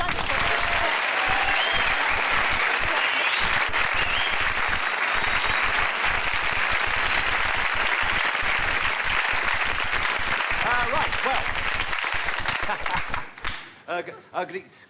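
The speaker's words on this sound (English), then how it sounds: "Can we have a round of applause?" A 1987 television comedy studio audience breaks into loud, sustained applause that fills the room for over twelve seconds, then thins into scattered claps as it dies away.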